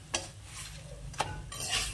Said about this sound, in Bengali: এই আলুটাও তাহলে লাল করে ভাজাও হয়ে যাবে